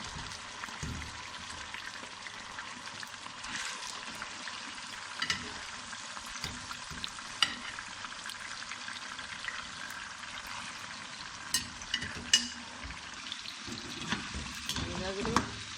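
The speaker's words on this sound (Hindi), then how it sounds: "ये गोश्त हम इससे निकाल के कढ़ाई में डालेंगे, इसको फ्राई कर लेंगे।" Meat fries and is stirred in a kadai, with a soft, continuous sizzle and occasional scraping clatters of the spoon, faint and close, with no speech.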